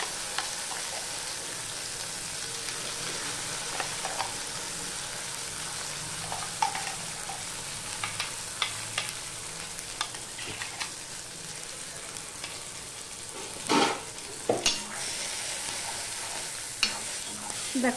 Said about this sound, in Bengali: আমি কড়াইতে টানিয়ে নিচ্ছি